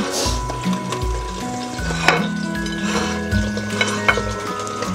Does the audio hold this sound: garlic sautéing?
yes